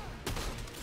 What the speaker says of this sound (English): And challenges with a gunshot.